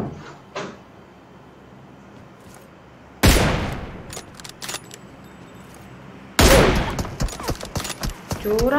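Gunfire in the mobile battle-royale game PUBG Mobile, two loud bursts of shots several seconds apart, each followed by clattering and rattling game effects, with quieter sounds between.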